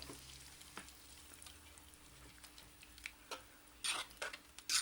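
Beef and ale stew with black pepper cooking in a pan, a faint low sizzle broken by scattered spoon taps and louder stirring scrapes toward the end, no talking.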